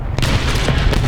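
Heavy tank cannon blasts in War Thunder, a loud booming shot with a deep rumbling tail and a second thump close behind.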